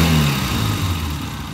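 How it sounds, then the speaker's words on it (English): A vintage British motorcycle engine idles steadily and close by, a low, even throb that holds throughout with no other sound over it. "Well, there it sits idling away."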